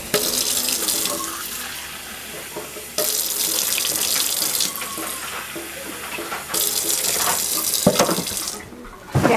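Water runs steadily from a tap while being measured for a salt dough mix, a continuous hissing stream broken by brief pauses and shifts in flow, near and alone without talk.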